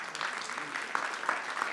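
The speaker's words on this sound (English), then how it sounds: "That deserves a round of applause." Audience applause fills a college State of the College address, a steady wash of many hands clapping at moderate loudness, with faint voices mixed in underneath.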